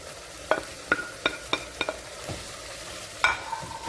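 Spinach being stirred into cornmeal in a pan, a series of soft scraping and clacking spoon strokes at an irregular rhythm over a faint sizzle, close and fairly quiet, with no talking.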